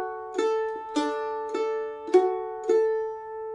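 Mandolin playing the first bar of the Cork hornpipe straight, with even down and up strokes: five evenly spaced bright plucked notes ringing close and alone in a steady pulse.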